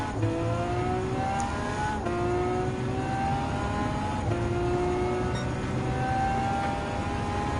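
Hypercar engines in the Gran Turismo 7 racing game, a loud, continuous high-revving drone with repeated rising pitch sweeps as gears change, several cars roaring together throughout.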